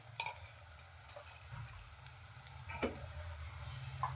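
Chickpeas (chhole) go into a hot pan and sizzle, a steady close frying hiss with a few soft stirring scrapes and no voices.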